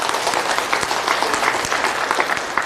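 Applause from a church revival audience, a dense steady wash of clapping hands filling the room, sustained and fairly loud throughout.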